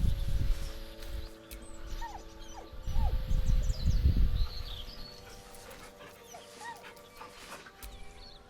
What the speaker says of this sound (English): With a deep, heartbroken whine